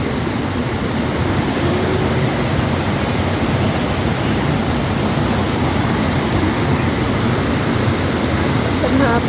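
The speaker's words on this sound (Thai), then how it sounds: "เบิ่งน้ำไหลเนาะ" Water pours steadily and loudly at a reservoir spillway, a constant dense rushing roar that fills the whole stretch with no breaks.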